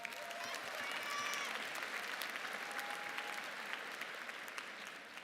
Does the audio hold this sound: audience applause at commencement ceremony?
yes